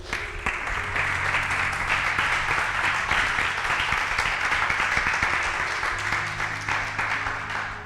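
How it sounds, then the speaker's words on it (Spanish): A church congregation applauds during a Spanish-language sermon: dense, steady clapping fills the room for about eight seconds at an even level, with low sustained tones beneath it. "¿cuánto le dan un aplauso al Señor?"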